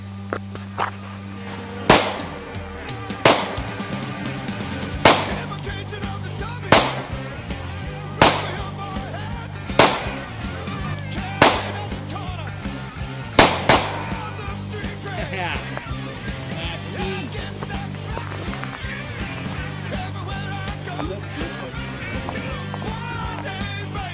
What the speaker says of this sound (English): now we're gonna shoot the Springfield 40 cal